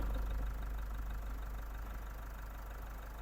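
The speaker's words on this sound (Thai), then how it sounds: "เป็นเครื่องยนต์ Isuzu EDI นะคะ ให้ฟังเสียงเครื่องกันเลย" An Isuzu 1.9-litre diesel engine in a 2022 Isuzu MU-X idles steadily with a low, even rumble and faint knocking, heard up close and without voices.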